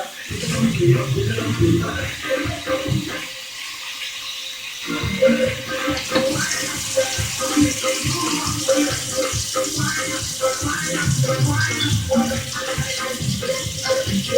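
A full glass of water is poured over fried beef slices in a hot pan, giving a rushing splash and sizzle that rises and falls over several seconds, fairly loud and close.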